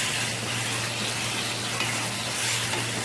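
Oil coated with salt and turmeric hisses and sizzles in a pan for katla fish chorchori, a steady, close frying crackle with soft stirring and no voices.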